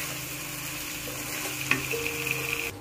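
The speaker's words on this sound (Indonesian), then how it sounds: "Diaduk-aduk lagi teman-teman." A clam gulai with coconut milk is stirred in a pan, with a steady close simmering sizzle, a brief spoon scrape, and faint tapping under it.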